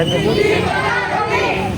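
A crowd of protesters at a street rally shouting a chant together, a dense, loud mass of voices blending into a continuous roar for a couple of seconds.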